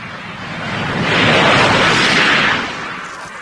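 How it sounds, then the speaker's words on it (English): An Eliica electric car speeds up with a jet-like whine that swells loudly to a peak and then fades, a broad rushing sound heard alone. "The Eliica sounds more like a jet aircraft as it speeds up."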